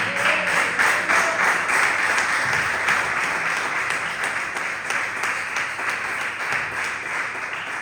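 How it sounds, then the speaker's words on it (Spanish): Congregational applause at a church service, a loud, sustained crowd clapping that holds steady across the whole stretch without speech. "Dale un fuerte aplauso"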